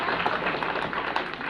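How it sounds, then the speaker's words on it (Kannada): Children clap together at a children's village assembly in Sakharayapatna, Kadur taluk, a dense, steady patter of many hands that holds throughout, fairly loud and close, with a murmur of voices mixed in. "ಚಪ್ಪಾಳೆಯ ಮೂಲಕ ಅದನ್ನ ನನಗೆ ತಿಳಿಸಬಹುದು"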